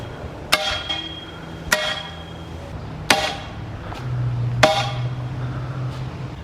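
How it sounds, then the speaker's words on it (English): Sledgehammer driving a metal calisthenics bar into the ground, four loud, sharp metallic strikes spaced about a second and a half apart, each ringing briefly afterward, close by. "we're gonna sledgehammer the bar in so that it's nice and sturdy."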